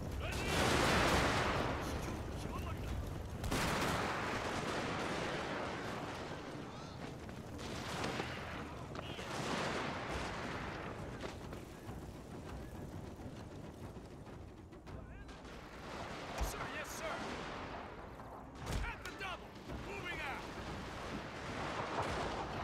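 Line infantry in the Imperial Might strategy game fire volleys of musketry in repeated crackling bursts against a constant battle rumble, with a commentator talking over it and distant sharp cracks near the end.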